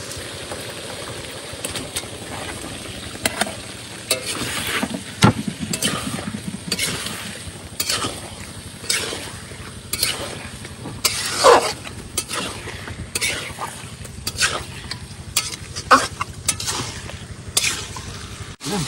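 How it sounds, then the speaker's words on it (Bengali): Meat is poured onto fried spices in a pot aboard a fishing boat, followed by irregular sizzling, stirring clatter and scraping over a low background hum. "আমার সমস্ত মশলা সুন্দর করে ফ্রাই করে নিয়েছি, এবার দেবো মাংসটা ঢেলে।"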